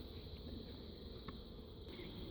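A steady, low hum of many honeybees buzzing together as they are scooped into a new 8-frame hive box, soft and continuous, with a few faint clicks and knocks nearby.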